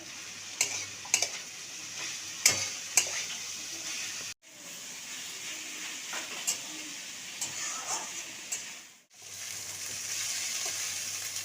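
Snake gourd and prawns sizzling in a frying pan, with a cluster of quick spatula scrapes early on, then a long, even hiss of frying with only occasional light stirring, close by.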